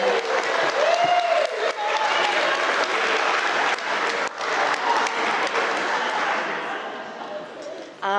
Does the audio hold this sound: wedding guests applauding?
yes